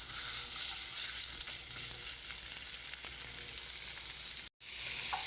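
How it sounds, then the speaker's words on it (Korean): Thinly sliced pork belly fries in a spoonful of olive oil in a pan, giving a dense, steady, close sizzle that continues almost unbroken apart from one brief cut. "올리브유 1스푼, 썰어 놓았던 대패 삼겹살 넣고 볶아줍니다."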